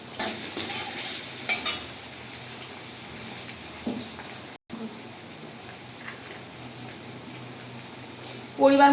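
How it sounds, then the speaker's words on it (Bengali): Potatoes frying in mustard oil in a wok make a continuous moderate sizzle with a few louder bursts early on and a brief break midway, closing with a sharper clatter. "তেল গরম হয়ে গেছে, তেলের মধ্যে আমি আলুটাকে আগে ভেজে নেব।"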